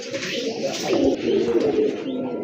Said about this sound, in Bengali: কবুতরগুলো কিন্তু অনেক ভালো ডাকে